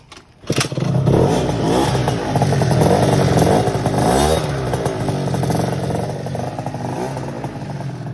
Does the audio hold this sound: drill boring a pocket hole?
no